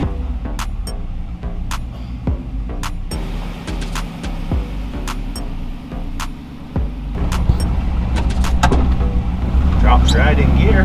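A Toyota FJ45 Land Cruiser with a freshly repaired torque converter drops into gear and pulls off on a test drive, its engine a steady close rumble under a cabin full of clicks and knocks, with people talking over it.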